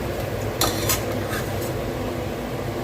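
A batch of sweet jaggery seedai frying in a pan of oil gives a steady, close sizzle, with a couple of brief scraping stirs near the start and no talk.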